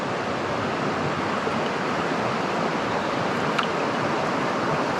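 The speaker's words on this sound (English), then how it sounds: "But a nice little waterfall." Steady broadband rush of a small waterfall on the Cataract River, constant and fairly close, with no breaks or voices over it.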